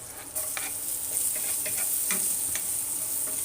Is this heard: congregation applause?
no